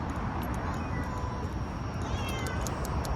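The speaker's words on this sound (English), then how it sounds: "It's literally a male cat." A male cat meows repeatedly over continuous background noise, close and clear, with no speech over it.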